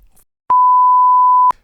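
A single steady censor bleep, a pure electronic tone held for about one second, loud and alone, cutting out a spoken word in a casual podcast conversation.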